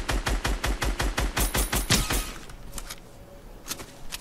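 Rapid gunfire in Fortnite: a fast, regular string of loud sharp shots for about two seconds, then a few scattered fainter shots trailing off into quieter background noise.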